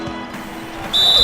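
A sharp, high referee whistle in the NBA 2K16 basketball video game cuts in near the end, following a quieter stretch of game ambience.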